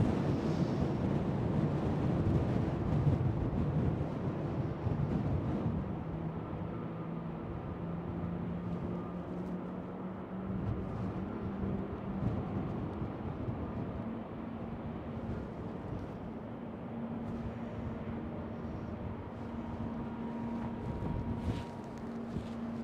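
Strong, steady wind roars and buffets the microphone at Schiphol airport in Amsterdam, a broad continuous rumble with low droning hum from distant aircraft or engines underneath, lasting throughout.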